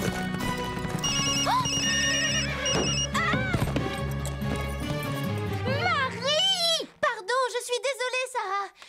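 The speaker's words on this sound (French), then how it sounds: "J'ai programmé une nouvelle sonnerie pour Ambre. Et je ne savais pas qu'elle était aussi forte." A newly set, loud phone ringtone plays at a ranch in the animated series Horseland. It comes as a bright warbling, repeating melody that rises out of music and voices near the end and grows stronger as it goes.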